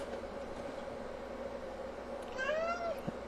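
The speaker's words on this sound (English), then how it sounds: "And my cat had something to say on that too" A house cat lets out a single drawn-out meow near the end, rising then falling, over a steady background hum with no speech.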